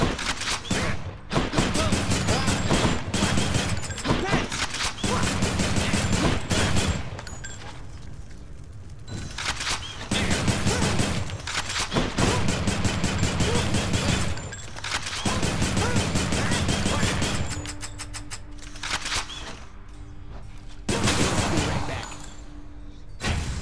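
Rail gun fire in the action game Hades roars in long sustained bursts with brief gaps, loud and dense, a voice speaking over the rapid shots.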